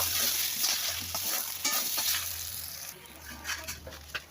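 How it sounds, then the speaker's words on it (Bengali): Chana dal lentils stirred in a frying pan, a steady close sizzle with scraping spoon strokes over a low hum, no talk. "ডালগুলো সব দিয়ে দিলাম ডাল দিয়ে নাড়াচাড়া করি"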